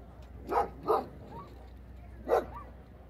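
A dog aboard a sailboat moored in a harbor barks three times, two quick yaps close together and then one more after a pause, with soft whimpering noises between them against a quiet background.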